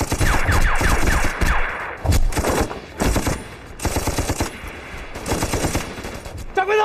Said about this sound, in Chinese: 机枪队加强火力，打他狗日的！